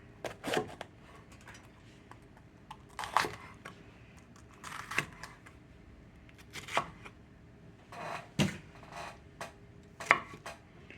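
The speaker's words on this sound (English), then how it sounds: "Just chop them up." Vegetables are chopped with a knife on a board, with quiet clusters of quick knife strikes at irregular intervals and pauses between them.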